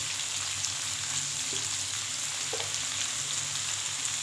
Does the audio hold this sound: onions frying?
yes